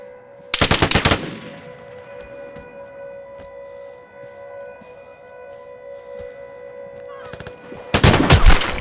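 Loud, rapid automatic gunfire in the online shooter Vigor bursts out for about half a second, then a quiet stretch with a steady tonal hum and faint ticks follows, and a second close, rattling volley erupts at the end.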